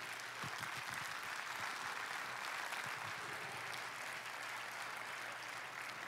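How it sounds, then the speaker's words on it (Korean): An audience at a 2014 year-end concert claps steadily and evenly throughout, a dense, moderately distant wash of applause with no talk over it. "여러분들 큰 박수 부탁드리겠습니다"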